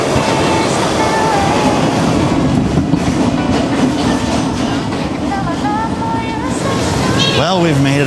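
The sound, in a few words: subway train riding underground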